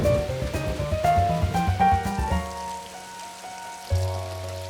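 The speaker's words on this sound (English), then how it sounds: "George didn't mind rain." Rain falling on a pond in a cartoon, a soft pattering wash heard under gentle music with sustained tones and a deep low note that swells near the end.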